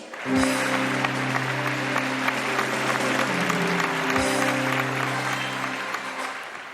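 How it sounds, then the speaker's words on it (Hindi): A studio audience on the Pakistani television show Jeeeway Pakistan claps steadily and loudly over a bright musical jingle, the applause holding for several seconds before tapering slightly. "तालियों की गूंज में इनका इस्तकबाल करते हैं।"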